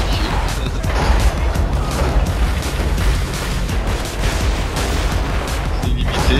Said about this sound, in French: Bah, je tire au canon, c'est tranquille.